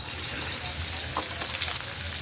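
Chopped garlic goes into hot mustard oil with a few dried chillies, producing a continuous close frying sizzle with light crackles, steady and moderately loud, without talking.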